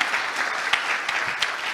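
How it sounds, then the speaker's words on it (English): Conference audience at a BIM awards event applauding a finalist, a moderate, steady patter of many hands clapping at medium distance with a few sharper claps standing out. "Let's just a round of applause for that."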